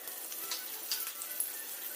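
Fenugreek seeds, mustard seeds, cumin and finely chopped green chilli sizzle in three spoons of hot cooking oil in a pan, making a steady, close, crackling hiss.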